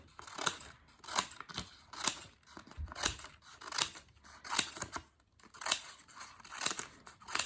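Scissors snipping through paper in a quiet room, about ten crisp rhythmic cuts each with a bright rasping edge, close and clear with no voices.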